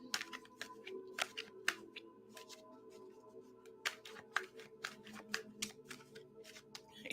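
Tarot cards are shuffled by hand indoors, a quiet run of crisp riffling snaps and soft slides in irregular bursts, close and alone without talk.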